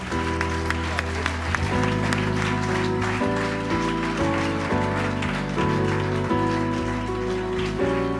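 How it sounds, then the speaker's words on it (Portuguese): A church congregation applauds in a dense, rain-like patter while musical instruments play sustained chords underneath, both continuing steadily at fairly loud volume. "Dá-nos um aplauso para Jesus"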